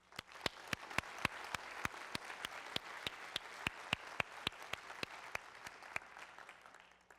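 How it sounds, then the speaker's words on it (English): Slow, evenly spaced claps, about three per second, sharp and fairly faint over a soft background murmur, more like a few people clapping than a full crowd. "Please join me in giving all of them a round of applause."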